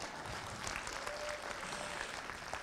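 A convention audience applauds during a California Republican Convention speech, with steady, dense clapping from a large crowd sustained at even loudness throughout.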